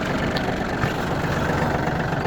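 A cold Yanmar AF322 mini tractor engine idles steadily, a continuous low diesel rumble with even vibration throughout and no voices.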